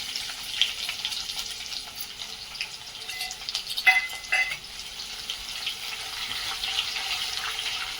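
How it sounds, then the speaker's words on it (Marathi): Chopped onions with spices frying in a pan for vegetable pulav, a soft steady sizzle with a few spoon clinks and scrapes midway, no voices. "कांदा आपल्याला गुलाबी रंग येऊपर्यंत परतवायचा आहे"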